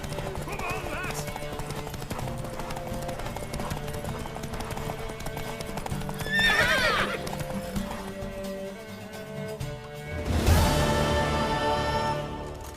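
Horse hooves clip-clop at a gallop during a horse race in The Witcher III, with a loud neigh near the end and character dialogue over the game's music and ambience.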